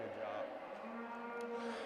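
A steer moos in a show ring at a youth fair cattle show, one long drawn-out low call holding steady for about two seconds against arena noise.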